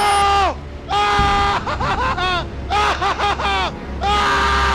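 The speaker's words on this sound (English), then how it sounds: "Man, that is some Nick Cage level of screaming." A man screams in Resident Evil 7, long, loud, strained cries with harsh pitch swoops that come in repeated bursts, close and dominant over game sounds.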